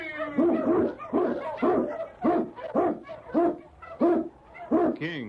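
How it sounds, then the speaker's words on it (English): An Eskimo husky lead dog barks loudly and close up, about eight rhythmic barks that each rise and fall, ending in a short whimpering yip. "King, the swiftest, strongest of Eskimo lead dogs, blazes the trail through storm and snow for Sergeant Preston"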